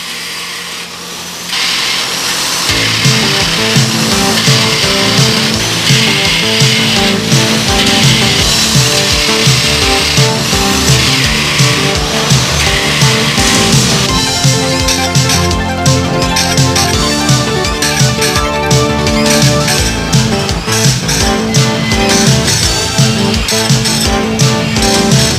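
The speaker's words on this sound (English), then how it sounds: "This is the building where they sharpen the blades." A large sawmill blade being ground on a sharpening machine, a loud steady mechanical whine and grinding with shifting tonal bands, continuous and close for the whole stretch after a brief quieter start.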